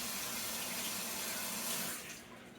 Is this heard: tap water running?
yes